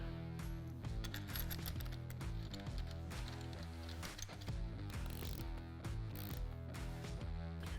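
A socket ratchet tightens the handlebar clamp bolts on a KTM 790/890 Adventure triple clamp, giving rapid, close, continuous pawl clicking in quick bursts with brief pauses between strokes.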